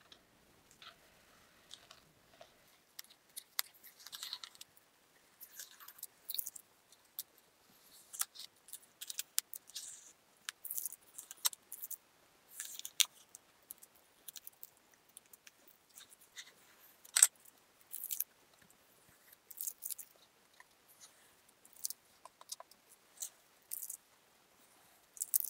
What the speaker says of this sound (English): Let's go ahead and get this tape off.